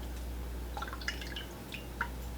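A face towel dipped lightly into a bowl of hot water, giving a few soft, faint drips and small splashes over a steady low background hum.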